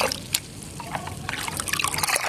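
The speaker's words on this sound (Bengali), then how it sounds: "আমি এটা আরও ভালোভাবে মিক্স করে নিই" Humic acid powder stirred into a container of water, giving a light, continuous trickling and sloshing of liquid with small splashy clicks, close and fairly quiet throughout.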